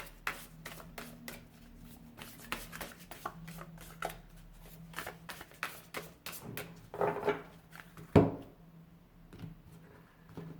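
Oracle cards are shuffled by hand in rapid, close, crisp riffles and taps, with a few louder snaps near the end and no talking.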